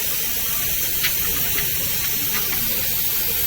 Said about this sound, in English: that bolt is still sizzling